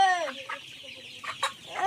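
A chicken clucks and squawks in short bursts, fairly close, with a brief higher call near the end.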